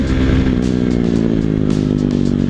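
A 2022 KTM motorcycle engine revs loudly and steadily up close, a deep throaty rumble with rapid firing pulses throughout.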